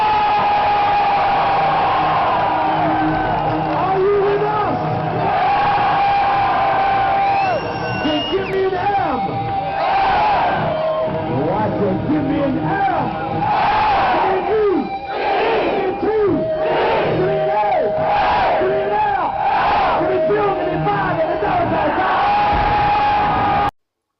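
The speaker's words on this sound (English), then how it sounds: "Also managed to find a fan snippet of sound, filmed as if you're in the crowd" Fan recording from within the crowd at a concert on Glasgow Green: a dense, loud roar of cheering and shouting voices swelling continuously for the whole stretch before cutting off abruptly.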